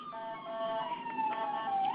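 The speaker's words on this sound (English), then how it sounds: "I apologize for the sirens." A wailing siren sweeps up and down outside an office in East Baltimore, heard muffled and moderately distant through walls, steady for the whole brief stretch with no voices.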